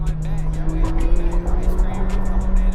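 A McLaren 720S Spider accelerating hard on a track through its first gears, a loud close engine roar rising in pitch, with a commentator talking over it.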